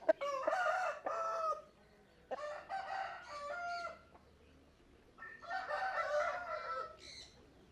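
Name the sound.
aseel game rooster crowing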